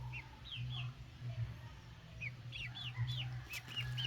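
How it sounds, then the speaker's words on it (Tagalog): A small chick peeps repeatedly in short, high chirps, faint and a little distant, over a constant low hum and quiet outdoor background. "Sisiw na to."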